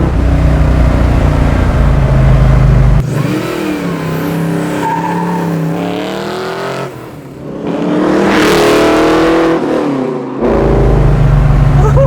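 A 1969 Ford Mustang Fastback restomod with a 347 stroker and five-speed, heard from inside as a loud deep engine revs through rising gears, with shift breaks and a brief lift before pulling hard again.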